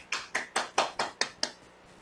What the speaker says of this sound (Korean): 멋지게 성장할 2024년에 응원의 박수 부탁드리겠습니다